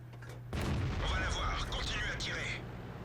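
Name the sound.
tank gun firing in World of Tanks video game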